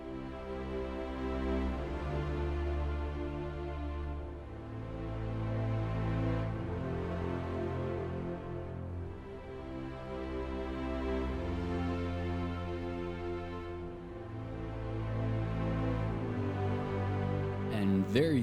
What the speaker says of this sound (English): You have a brand new chord progression that is longer than 4 chords.